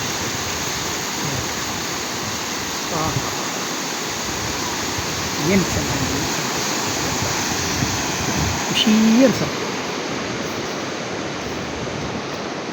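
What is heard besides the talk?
sea waves on the shore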